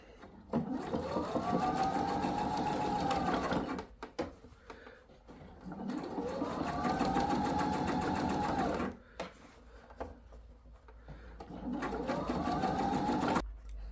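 A sewing machine stitches a fabric sailor hat in three long, whirring bursts, close and moderately quiet, with short pauses between runs.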